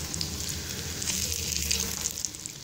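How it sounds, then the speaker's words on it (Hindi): Chicken shami kabab patties fry in cooking oil on a low flame, giving a steady, close crackling sizzle with scattered pops throughout and no talking. "बिल्कुल लो फ्लेम पे मैंने इसे कुकिंग ऑयल में डाल के रख दिया था।"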